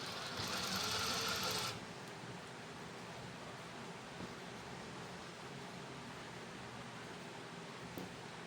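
A sewing machine stitching near a shirt cuff runs in one short, buzzing burst of under two seconds, then stops, leaving only a faint, steady room hiss.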